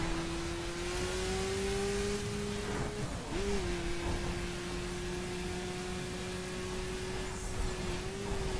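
Mini Countryman Cooper S engine droning steadily in a long fifth gear at high speed in The Crew, a sustained mid-pitched hum with a brief dip in revs around the middle, heard alone.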